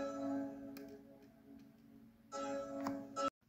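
Soft keys pattern built in FL Studio for a melodic drill beat, sustained tonal chords that hold, thin out, then return louder near the end before cutting off abruptly.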